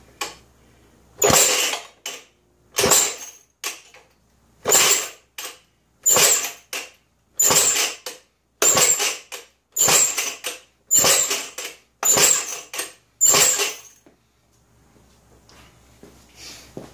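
Someone tries to cold-start a 1932 Maytag hit-and-miss engine, producing about ten loud, close metallic cranking strokes at a steady pace of roughly one per second, followed by quiet.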